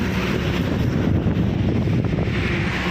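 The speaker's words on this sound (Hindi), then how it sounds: "हवा चल रही है बहुत तेज़" Very strong wind roars constantly on a highway near Lakhanpur, a loud, unbroken rush buffeting the microphone with no voices.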